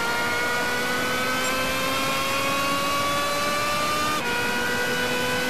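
A Subaru race car in Gran Turismo 6 revs hard on a circuit. The engine note climbs steadily and loudly, then briefly dips at a gear shift before rising again.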